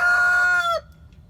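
A backyard chicken lets out a single loud, drawn-out crowing call close by, a strained harmonic cry that ends abruptly and leaves near silence.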